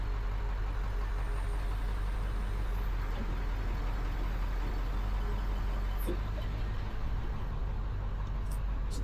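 A Jeep engine runs steadily and loudly nearby as the vehicle is driven in, a continuous low rumble with a few faint squeaks.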